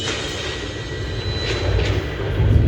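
Spaceship engines are pushed to a critical state in an anime space-fleet battle scene, heard as a steady, heavy, low mechanical roar that swells slightly louder over a few seconds, with no voices.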